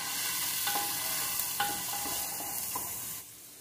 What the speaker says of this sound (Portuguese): Aqui eu tenho uma cebola cortada em cubinhos. Dá uma refogadinha nela.